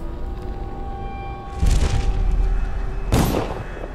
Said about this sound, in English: They are shooting on something